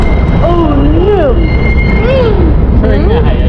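A New York subway train rumbles loudly and steadily while its wheels give wavering, high-pitched squeals that rise and fall several times.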